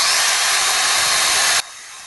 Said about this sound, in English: I want to get all this sanded down, like all the paint stripped off of there